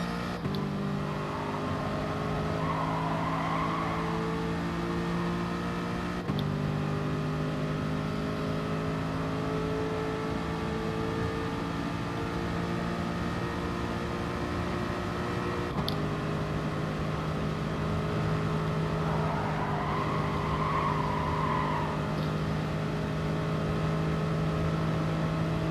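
A race car engine in Gran Turismo Sport drones steadily for the whole stretch, holding high revs with a few sharp gear shifts and rising pitch between them, no talk over it.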